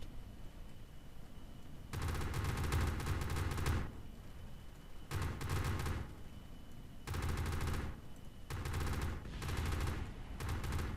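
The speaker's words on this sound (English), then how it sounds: "Just heard something explode, so I assume that would be our enemy." Bursts of gunfire from fighters in a Kerbal Space Program air battle, rapid automatic fire in four long rattling volleys separated by short pauses, loud and steady with no talk.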